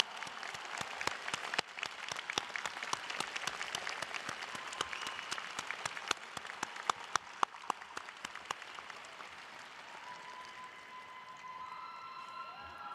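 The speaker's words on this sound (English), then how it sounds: "Get up, please, support, applaud your family right now." A large crowd of graduates at a university commencement ceremony applauds their families in a dense, sustained wave of clapping that thins out toward the end, leaving faint scattered claps and room tone.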